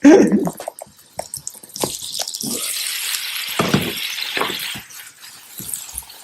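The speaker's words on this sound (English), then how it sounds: "I'm going to pour them over the artichokes." Hot peas poured over stuffed artichokes in a home kitchen, a clattering, wet spill that settles into a softer rustle, with a brief clink near the start and quiet background noise.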